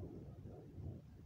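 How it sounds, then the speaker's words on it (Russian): Thunder rumbles faintly after a downpour, a low, soft, continuous roll that swells slightly and fades, heard alone. "Громыхает гром."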